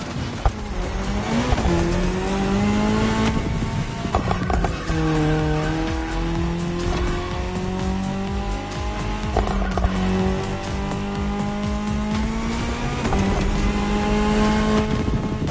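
Rally cars race in The Crew Motorfest, among them an Audi S1 EKS RX Quattro and a Ford Puma Hybrid Rally 1 hybrid. Engines drone and rise in steady, overlapping pitch sweeps with tire squeal, loud and close, and no one speaks.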